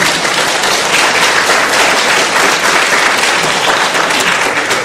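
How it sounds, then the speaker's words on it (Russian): A large audience applauds at a Russian student admissions showcase performance, dense sustained clapping that stays loud and even for several seconds, with no clear voices over it. "ГИН, это тебе аплодисмент"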